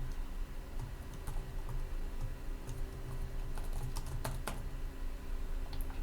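Someone types a Facebook post on a computer keyboard, a fairly quiet, steady run of key clicks with a few sharper taps, heard alone over a low room hum.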